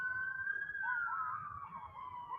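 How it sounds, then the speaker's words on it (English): A distant, faint siren-like wail rises and wavers steadily, a single long tone that could be an emergency siren, wolves or children howling, with no talk over it. "I don't know if that's a siren or wolves or children."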